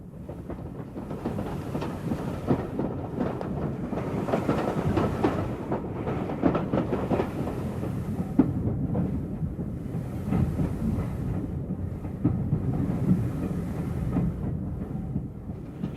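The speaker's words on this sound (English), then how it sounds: "the little train set off, passing over a high viaduct" A little narrow-gauge train runs near Saint-Brieuc, crossing a high viaduct, with a steady, continuous rumble and faint rhythmic clatter throughout, no voices.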